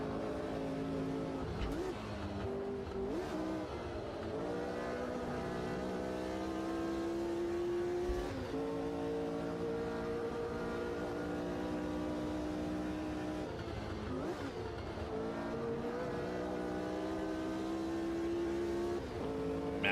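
A large pack of 1960s Formula 1 race cars in the sim racing game Automobilista 2, many high-pitched engines screaming and revving together, shifting pitch as they accelerate and brake, loud and continuous.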